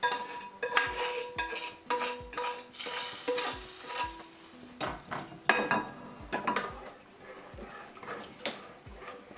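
Almonds being stirred in a pan for sheer khurma, a dessert of milk and vermicelli, with repeated close scraping and clinking strokes of a spoon against the pan in an irregular rhythm and a faint sizzle underneath, no voices.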